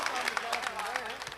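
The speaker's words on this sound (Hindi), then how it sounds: "एक जोरदार ताली बजाइए मुशायरा कमेटी के लिए" An audience at a mushaira claps in a brief, lively burst of dense applause, the clapping close and busy with a voice talking over it.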